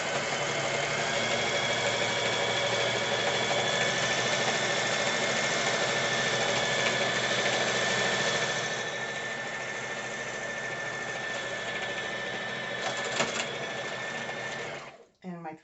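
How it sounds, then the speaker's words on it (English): A sewing machine mounted on a Grace mini quilt frame stitches steadily across fabric, a loud continuous mechanical whir with a faint knocking pulse that eases slightly partway through and cuts off abruptly at the end. "now I'm just going to roll over the machine, and I'm going to learn how fast I need to move my machine and how hard I need to press my pedal"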